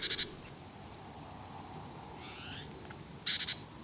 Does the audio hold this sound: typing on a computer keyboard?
no